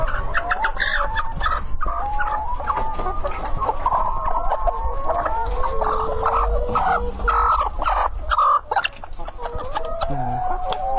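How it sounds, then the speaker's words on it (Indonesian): A flock of roughly 88-week-old layer hens on a poultry farm clucks and calls continuously, dense overlapping squawks and rising cackles filling the barn at close range. "Ini untuk usia ayam layer yang hampir 90 minggu, lebih tepatnya 88 minggu ya."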